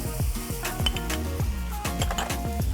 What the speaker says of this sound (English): I'm gonna add in my harissa paste now.